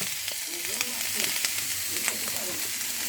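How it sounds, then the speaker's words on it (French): Bacon lardons frying in a pan for penne carbonara, a steady close sizzle with soft crackles and a few faint stirring scrapes throughout. "Les lardons vont nous rajouter leur gras. On va les laisser cuire."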